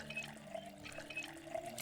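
Water running into containers from a tap in the Project Zomboid video game, a short, quiet, steady trickle and splash heard alone.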